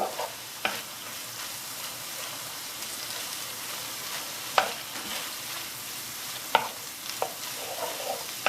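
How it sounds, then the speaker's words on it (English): Beef mince with four crushed garlic cloves sizzles steadily in a pan for lasagne, with a few sharp spoon clacks against the pan as it is mixed through. "There's 4 cloves of garlic gone in, crushed. Give that a mix through, and we've got to cook that through"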